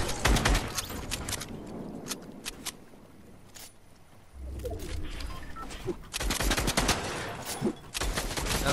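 Video game gunfire comes in bursts of rapid shots, loud and close, with a quieter lull in the middle before the shooting picks up again.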